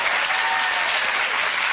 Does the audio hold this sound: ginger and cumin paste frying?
no